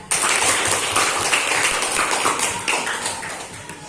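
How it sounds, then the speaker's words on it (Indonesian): Students in a classroom clap together in a brief burst of fast, dense applause that starts abruptly and gradually thins out over a few seconds. "Ya, tepuk tangan untuk Supira."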